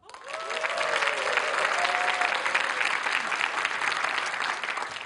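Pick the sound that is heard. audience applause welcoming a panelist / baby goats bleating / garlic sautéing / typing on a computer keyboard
audience applause welcoming a panelist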